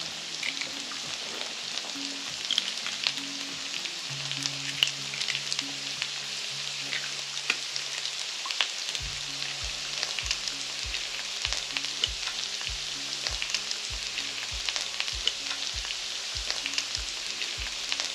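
Steady sizzling of breakfast burrito filling frying in butter in a pan, left to cook and stirred now and then; continuous crackle at moderate volume with occasional low thuds and scrapes, no voices.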